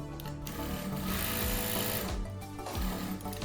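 A Sun Spec SS1967X straight-stitch industrial sewing machine running loud and close, a dense continuous whir that drops off briefly around the backtack reversal and then starts up again, with no talking.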